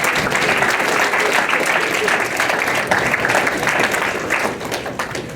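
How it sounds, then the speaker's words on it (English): A crowd at a high school grad night hypnosis show breaks into loud, sustained applause, dense clapping from many people that holds steady and tapers slightly toward the end. "Okay, give them a round of applause,"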